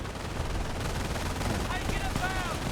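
Sustained machine gun fire from a machine gun team in Company of Heroes, a dense rattling stream of shots mixed with battle noise, loud and continuous throughout.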